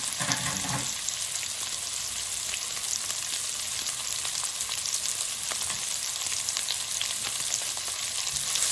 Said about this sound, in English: Now we are going to bring in our diced onion. There goes the onion.